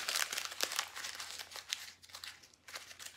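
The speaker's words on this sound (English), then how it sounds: "this is where the fun begins, because you get to crumple it up" Paper is crumpled up by hand at close range, giving bursts of crisp crinkling and crackling in uneven clusters with brief quieter gaps, and no talk over it.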